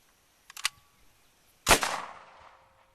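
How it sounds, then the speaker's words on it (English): An SKS rifle slam-fires with the safety on and no finger on the trigger. A few sharp metallic clacks of the action come first, then a single loud, close gunshot that rings and decays over about a second. "That's a slam fire."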